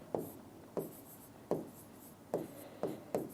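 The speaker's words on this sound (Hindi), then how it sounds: "जो आपको आता है वैसा एग्जांपल लिखता हूं यहां पर" Chalk or marker strokes writing an example on a board, five or six short scratchy bursts spaced at uneven intervals, close and clear with no speech.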